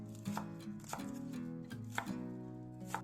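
A kitchen knife slicing fresh green onions on a board for fried rice: several soft, sharp cuts in an irregular rhythm, quiet and close, over faint steady background music.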